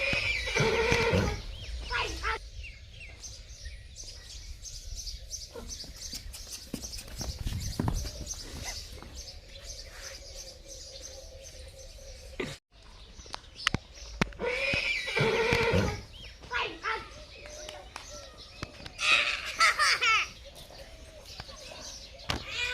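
A mare neighs and whinnies in loud shrill bursts in rainy weather, with hoof clip-clops, bird chirps and scattered human voices around.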